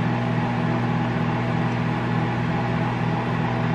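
A microwave oven hums steadily while heating a bowl of oatmeal mixed with water, a close, even electrical drone with a low mains buzz and fan whir, unbroken and with no talk.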